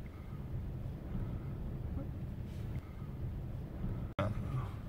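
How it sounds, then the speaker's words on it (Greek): Steady wind buffets the microphone by the sea on a breezy day, a continuous low rumbling roar with a brief dropout and thump near the end, no talking. "Εδώ κοντά μας μαζέψε αέρας."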